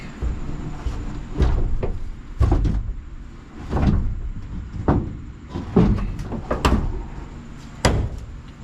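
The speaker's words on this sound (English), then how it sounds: "Let's see what the door shuts like." The door of a 1982 Ram Charger truck with a problem hinge is opened and shut repeatedly, giving a series of sharp metallic clunks and rattles spaced a second or so apart, close by and fairly loud.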